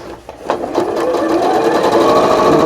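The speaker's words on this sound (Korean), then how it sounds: "재봉틀을 합니다" A sewing machine runs steadily up close, stitching quilted fabric for a glasses case, its rapid mechanical stitching hum holding at a constant pace after a brief start.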